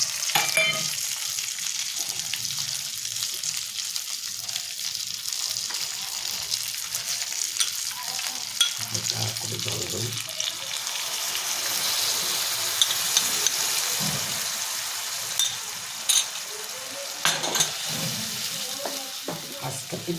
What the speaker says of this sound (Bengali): আমি চেরা কাঁচা লঙ্কা দিয়ে দিই